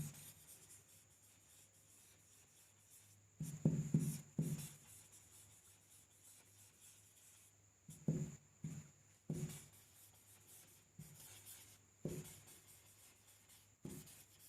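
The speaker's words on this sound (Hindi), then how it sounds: "यहाँ पर लिखता हूँ" Chalk or marker scratches across a classroom board in short bursts of strokes separated by quiet pauses, fairly close and faint in a still room.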